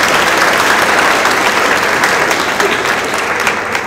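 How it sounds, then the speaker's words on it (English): Steady applause from a debate audience at an event on the drug war, dense and even clapping filling the room throughout without any talking. "So let's give Jason a round of applause as well"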